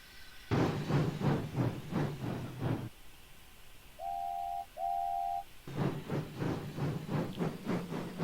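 A train in a railway video game, now made up with a brake van, puffs out a run of rhythmic steam-exhaust chuffs, sounds two short whistle toots, then resumes its steady chuffing, loud and close.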